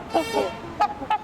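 Trumpeter swans give a few nasal, horn-like honks, close and clear, in short uneven bursts.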